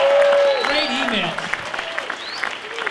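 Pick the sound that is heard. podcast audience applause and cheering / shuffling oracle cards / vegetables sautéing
podcast audience applause and cheering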